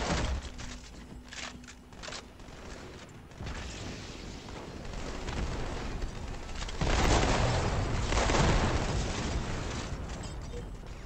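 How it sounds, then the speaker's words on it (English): Grenade blasts and gunfire in a Halo: The Master Chief Collection free-for-all match, a dense, noisy stretch of booms swelling louder toward the end, with players talking over the action. "He got me from the grenade."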